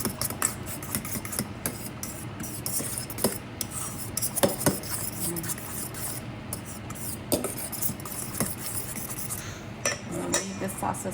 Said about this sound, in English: Just going to mix this up with a fork.